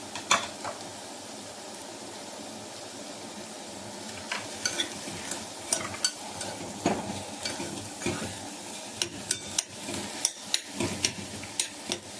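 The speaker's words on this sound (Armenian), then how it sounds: "սոխն լցնենք, մի հատ այնքան որ տապակվի" Onions frying in a pan for dolma, a steady close sizzle broken by frequent clinks and scrapes of stirring that grow busier toward the end, with no talking.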